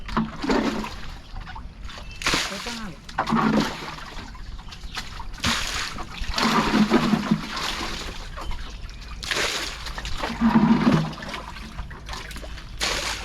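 Water splashes and trickles in uneven bursts as someone stands inside a large fish tank bailing the water out by hand, with scooping and pouring sounds close by and outdoor background noise.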